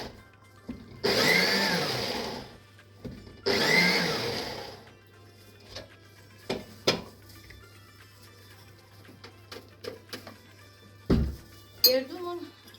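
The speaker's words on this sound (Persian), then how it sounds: "گردو رو آسیاب میکنیم." An electric grinder whirs loudly through walnuts in two short bursts, each about a second and a half, followed by scattered light clinks and taps of the lid and container at close range.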